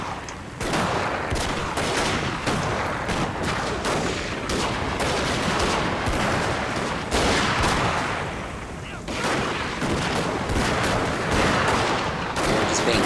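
Dense volleys of musket and gunfire from a battle in the strategy game Shogun 2 Total War, set at a castle in the rain, crackle almost continuously under a steady wash of background roar, with a few brief lulls.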